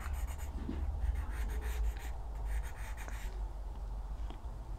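Pencil sketching on paper while drawing a Batman figure, a steady scratchy rubbing of graphite strokes running throughout, close and moderately loud with no talk.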